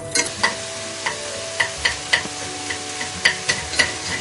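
Vegetables and fatty beef sizzle in oil in a pot for beef stew, a steady frying hiss broken by sharp scraping clacks of stirring roughly every half second.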